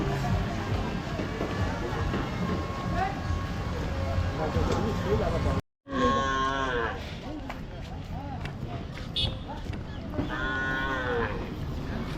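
Water buffalo and cattle at a riverside livestock market ahead of Qurbani: loud, drawn-out lowing calls rise repeatedly over people talking nearby and general crowd noise, with a brief drop to silence midway.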